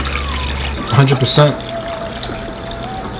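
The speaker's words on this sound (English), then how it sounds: "All the water is poured in." Water pours into a container for cleaning fruit, a steady splashing flow that continues while a person speaks briefly over it.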